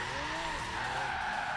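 A Lamborghini Centenario in Forza Horizon 3 slides under the handbrake, letting out a short, sustained tire squeal over engine drone, with no voices.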